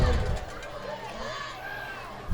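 Crowd at a high school football game between Chipley and Holmes County, a steady murmur of chatter and cheering with louder swells at the start and end, heard from nearby.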